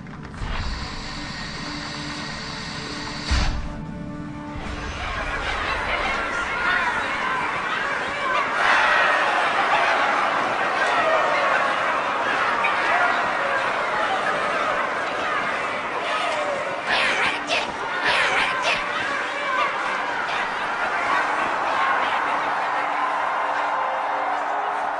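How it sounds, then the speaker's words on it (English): Crowd chatter in a Halo 2 cutscene, a dense murmur of many voices with scattered laughter, steady and moderately loud after a brief opening clunk. "Quite a crowd."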